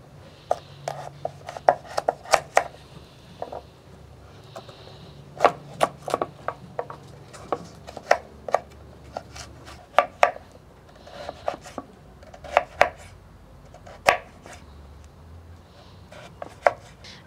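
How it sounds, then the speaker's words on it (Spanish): A knife chops carrots on a board in a ranch kitchen while picadillo is prepared: a long run of sharp, close, uneven taps, sometimes in quick clusters, with soft rubbing between strokes. "Estas también las voy picando, las zanahorias igual"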